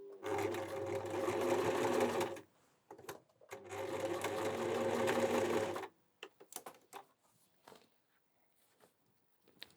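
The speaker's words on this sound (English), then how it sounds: "I'm going to sew these parts together" A sewing machine stitching vinyl cosplay armor parts runs in two steady, rapid bursts of about two seconds each. Quiet handling clicks and rustles follow.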